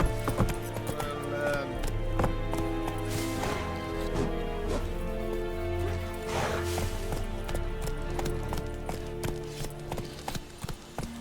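Roach the horse gallops in The Witcher 3, with rhythmic hoofbeats thudding steadily beneath a layer of game music, fairly close and continuous.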